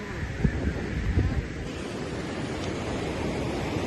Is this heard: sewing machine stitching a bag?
no